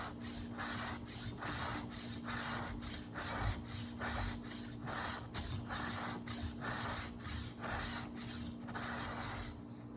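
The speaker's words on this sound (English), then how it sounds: "just spray it a little bit with water" Repeated short hissing spritzes from a spray bottle misting water onto carved plaster, a steady rhythm of bursts over a low constant hum, fairly close, no talk.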